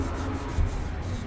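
Sandpaper rubs back and forth over primer on the hood of a 1958 Johnson CD-15 outboard motor, a close, steady scratchy rasp in quick repeated strokes.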